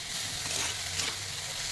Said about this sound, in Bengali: এই যে শাকটা এখন তেল গরম হয়ে গেছে, তেলে ছেড়ে দিয়েছি। শাকটা তো ভাজা ভাজা করবো, লাল শাক